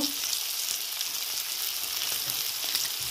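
Broad beans with green chillies and salt fry in a pan, giving a steady, close hiss of sizzling oil throughout with faint stirring scrapes and no talk.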